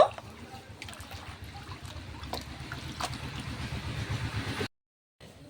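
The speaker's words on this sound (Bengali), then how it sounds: "এবার লাউ পাতাগুলো পরিষ্কার করে ধুয়ে নেব" Bottle gourd leaves are swished and rinsed in a large bowl of water, giving soft continuous splashing and trickling with a few sharper drips, close and fairly quiet, ending in a short silence.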